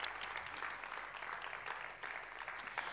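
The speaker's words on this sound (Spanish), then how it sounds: "Así que un aplauso para él." Steady applause from a crowd, many hands clapping continuously at a moderate, even level throughout.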